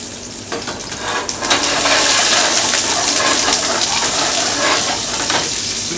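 Onions hit a hot thick-bottomed pan with thyme, garlic and bay leaf, giving a loud, steady hiss and crackle of frying that swells in the first seconds and then holds close and constant.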